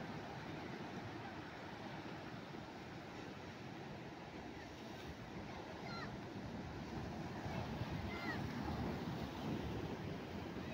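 Ocean surf rolls in at Ujung Batu beach in Padang, a continuous broadband wash of breaking waves with wind buffeting the microphone, steady and fairly faint with no distinct individual crashes.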